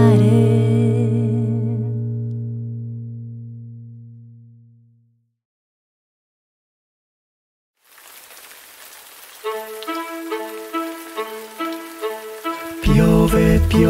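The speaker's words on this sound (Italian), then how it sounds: "Piove, piove nel laghetto." Rain pattering onto a small pond as a sound effect in a children's song, a steady hiss of drops that swells after a fading musical tone and a pause, with tinkling music entering over it.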